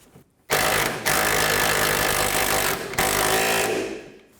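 A wrench on an 18mm socket tightens the rear sway bar link nut on a 2011-15 Kia Sorento. It gives loud, close, continuous mechanical whirring in three sustained bursts separated by brief breaks.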